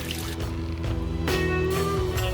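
A water bottle is filled with three liters of water outdoors. The gurgling pour runs loud and close, with a tone that rises as the bottle fills.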